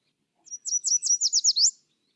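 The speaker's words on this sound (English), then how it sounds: "The yellow warbler is the perfect example." Yellow warbler song, one short, bright series of about eight rapid, high chirped notes that rise in intensity, clear and alone against silence.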